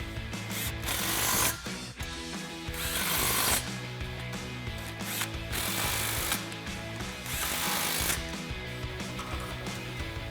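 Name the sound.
impact wrench tightening exhaust clamps with 15mm socket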